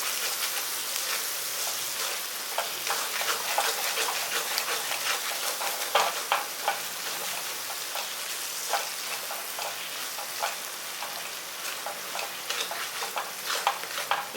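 Amla (gooseberry) thokku cooks in oil in a pan, giving a continuous close sizzle with frequent small crackles and pops, heard alone without speech.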